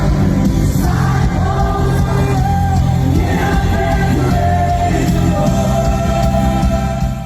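Thousands of students singing the worship song Gratitude together outdoors on the University of Kentucky campus, a dense, loud wash of massed voices holding sustained tones throughout.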